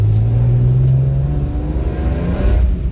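BMW M3 engine accelerating hard up a wet mountain pass, heard from onboard the car as a loud, close, rising growl that holds steady for a few seconds.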